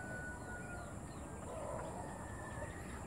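Faint bird calls outdoors, a few thin chirps and clucks set low against a steady hiss of background ambience, with no voices present.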